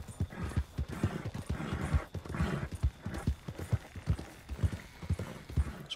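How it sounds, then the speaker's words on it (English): Horse galloping in the Red Dead Redemption 2 video game, rapid rhythmic hoofbeats thudding steadily and close, with a brief whinny-like sound mixed in. "This horse ain't got shit for stamina."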